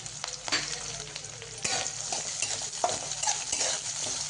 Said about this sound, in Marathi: आता हे सर्व साहित्य आपण मिक्स करून घेऊया चांगलं।